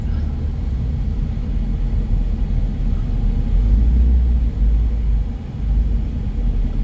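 A 2020 Ford EcoSport with a 2 L four-cylinder on a test drive fills the cabin with a steady, deep road and engine rumble that swells slightly midway, with no clear talk.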